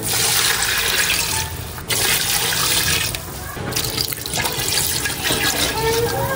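Water splashes and gushes steadily into a cooking pot of pork sinigang with pork leg and banana heart, a continuous loud liquid rush with a few brief breaks.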